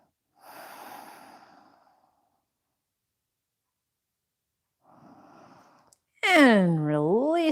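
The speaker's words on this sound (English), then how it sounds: "Take a moment to just breathe through your nose." Slow breathing through the nose during a yoga session, with two soft, airy breaths separated by silence, followed by a woman's close, clear voice.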